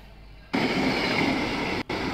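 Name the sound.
train passing by in a played video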